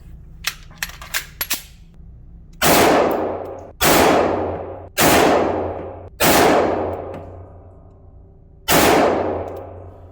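Five loud, evenly spaced shots from a Smith & Wesson M&P 9mm M2.0 Performance Center pistol fired at a target 25 feet away on a range. Each crack is followed by a short decaying echo, and a few light metallic clinks come before the shots.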